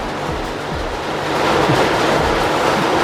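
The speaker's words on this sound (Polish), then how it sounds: "To se przynajmniej deszczu posłuchacie" Steady, dense hiss of rain or rushing water, loud and continuous, with a low rumble underneath and no voices.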